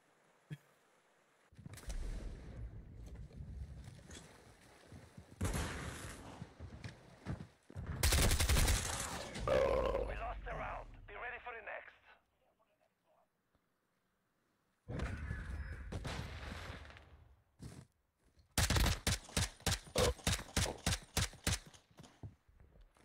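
Gunfire in a video game comes in separate bursts, including a rapid automatic volley near the end, with silent gaps between them and no talk.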